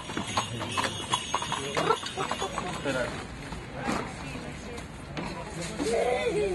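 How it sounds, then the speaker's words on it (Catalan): Hooves of a horse-drawn carriage clip-clop in a steady rhythm during a village charity ride for La Marató in Valldoreix, heard under nearby talk and crowd chatter. "una passejada amb cotxe de cavalls"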